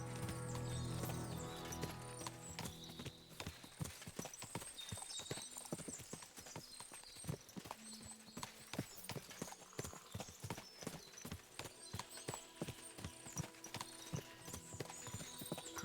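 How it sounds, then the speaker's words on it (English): Many horses clip-clopping in the video game Kingdom Come Deliverance 2, a dense, continuous patter of hooves with a brief whinny near the start, heard quietly in the background. "See what I see? Fuck. What a lot of horses."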